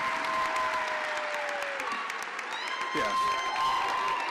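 A standing audience applauds nursing graduates at a university pinning ceremony, steady clapping filling the hall while someone speaks over it.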